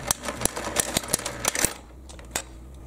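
A Royal Sovereign FS-44P four-row coin sorter and counter runs through a batch of mixed coins, pennies and nickels among them, with rapid irregular clacks and clinks over a quiet motor hum, loud and close, tapering off near the end.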